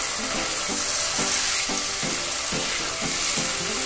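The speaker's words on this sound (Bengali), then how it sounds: "আলুটাও মশলার সাথে ভালো করে মিশিয়ে নিচ্ছি।" Fried potatoes are stirred into sizzling spice paste, a dense steady frying hiss with rhythmic scraping strokes of a spatula repeating every half second or so, close and loud.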